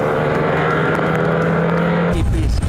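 Historic racing cars, among them a BP Porsche and an Alfa Romeo Berlina, roar along the track in a loud, steady engine drone that shifts abruptly to a different pitch and texture near the end.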